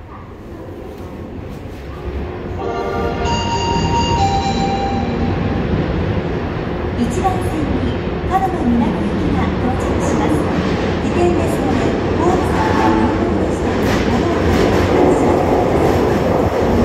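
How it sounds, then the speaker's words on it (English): An Osaka Metro train pulls into the platform at Taisho Station, a steady loud rumble of wheels and motors with a rising electric whine and brief tonal chimes early on, continuing close and sustained throughout. "Bye for now, but I'll film the train arrive."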